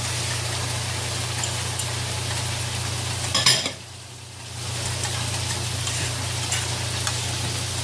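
Ackee tumbles into a pan of frying saltfish and is gently folded in: a steady sizzle with a clatter of utensil against the pan, a brief hush as the cold fruit drops in, then the sizzle returns.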